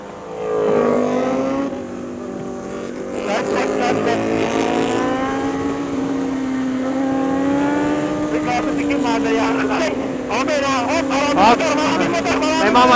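A Suzuki GSX-R1000R motorcycle engine drones steadily while riding on a year-end group ride to Baler, its pitch rising and falling through gear changes, loud and close, with wind noise and a rider talking over it.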